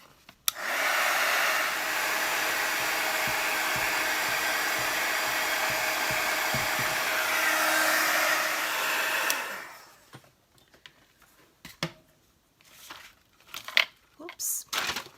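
Hair dryer drying a paper craft project of bell and ribbon pieces: a loud, steady whooshing blast for about nine seconds that then cuts off, followed by crinkling, tapping and handling of paper and small pieces.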